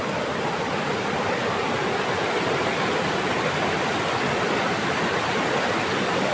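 Loud, constant rushing roar of falling water, dense and unbroken throughout.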